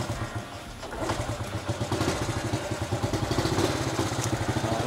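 A motorcycle engine, a mostly original-parts bike, runs up close, its steady rapid exhaust pulses beating evenly throughout with slight mechanical clatter and no speech.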